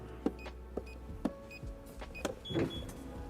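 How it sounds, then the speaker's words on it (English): Motorized stairs on a luxury car retract and tuck away with a faint electric whir, punctuated by a few soft, evenly spaced mechanical clicks. "you can hide away your stairs just like that"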